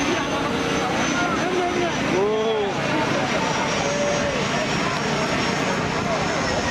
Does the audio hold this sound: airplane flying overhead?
yes